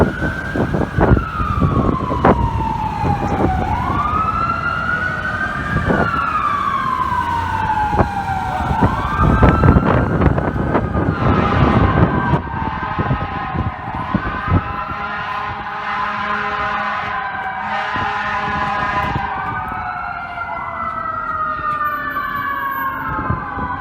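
FDNY fire apparatus sirens wail and yelp from several units responding to a high-rise fire on West 59th Street, with overlapping rising and falling tones, loud and close, over heavy city traffic rumble and air horn blasts.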